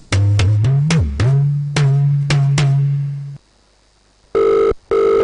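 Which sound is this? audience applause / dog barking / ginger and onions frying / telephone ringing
telephone ringing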